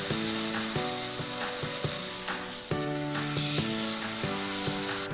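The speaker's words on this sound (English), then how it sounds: "I'm gonna go ahead and add in our steak" Picanha steak searing in a hot pan gives a steady, close hiss and crackle of fat, running continuously under background music with sustained tones.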